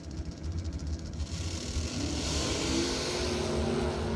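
A drag race car engine revs at the starting line of a bracket race, starting at a rough rumble and then rising into a louder, sustained roar that holds close and steady.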